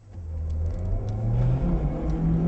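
A Mitsubishi Lancer Evolution X making nearly 300 horsepower accelerates on a test track, its engine note building into a strong, rising rev heard close and unaccompanied.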